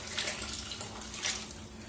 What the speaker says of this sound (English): So we're going to go ahead and pour this, and try not to make a mess.